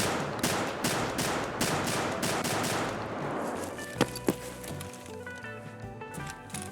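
A slug-firing shotgun-style gun in a shooter game fires a rapid string of loud, closely spaced shots, followed by a few separate heavier blasts and scattered impact sounds.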